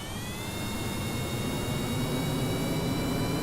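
Steady, continuous roar of a rocket engine at full throttle in Kerbal Space Program, a broadband rumble with a thin high whine running over it, holding even and loud throughout with no talk.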